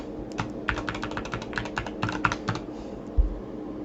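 A password is typed on a computer keyboard in a quick burst of close, crisp key clicks, followed by a single heavier keystroke.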